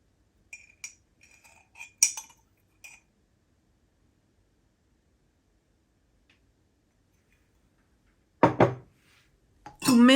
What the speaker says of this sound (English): Take the same spoon and the onion skin ink and put 2 spoons of ink